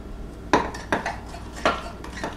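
A spoon scrapes and knocks inside a mug while microwave chocolate chip cookie batter with salt and baking powder is mixed, giving four or five distinct clinks at uneven intervals, close and fairly quiet, with no talk.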